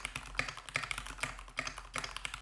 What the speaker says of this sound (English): Now I'm typing on the Keychron K8 Pro with Keychron G Pro Browns while I talk, and this is how it sounds